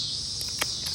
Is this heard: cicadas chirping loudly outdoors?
yes